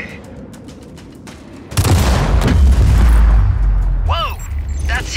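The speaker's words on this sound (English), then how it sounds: "Rico, you think the explosions are a little too much?" A sudden loud blast in Just Cause 4 as exploding piñatas blow up, followed by a sustained rumbling roar of explosions and crackling debris, with game character voices speaking over the din near the end.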